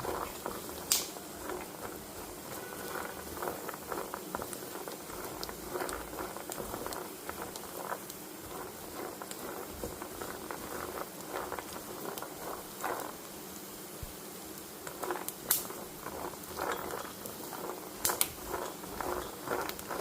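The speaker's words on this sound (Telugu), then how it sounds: "పల్లీలు అయితే చక్కగా వేగుతున్నాయి సౌండ్ వస్తుంది కదా అవన్నీ చిట్ చిట్ చిట్ అని కొట్టు పగిలిపోతూ ఉంటుంది" Peanuts dry-roasting in a pan give a steady crackling patter, with scattered sharp pops and snaps standing out now and then over about twenty seconds.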